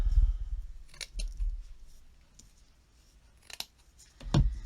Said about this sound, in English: I'm going to trim my ends.